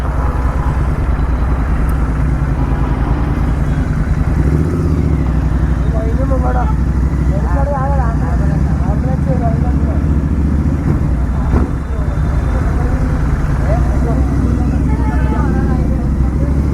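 Steady night road traffic rumbles around a GT650 motorcycle on a Hyderabad road, with a constant engine and road drone. Someone talks over it in bursts.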